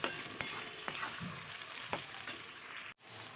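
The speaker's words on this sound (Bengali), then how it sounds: "এরপর দিয়ে দেবো পেঁয়াজ, ভালো করে নাড়িয়ে নেব।" Onions fry in oil with whole biryani spices for mutton biryani, a soft continuous sizzle broken by several light clinks and scrapes of a stirring spoon, faint and close, with no talk.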